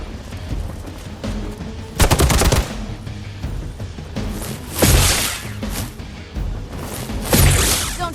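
Gunfire bursts in the video game Marvel's Midnight Suns, sharp broadband blasts at about two, five and seven seconds standing out over a constant game soundscape, loud and close.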